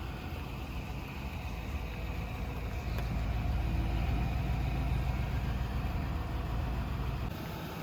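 A 2006 Ford Crown Victoria P71's 4.6-liter V8 engine idles with a deep, steady low rumble, continuous and close, swelling slightly in loudness midway before settling back.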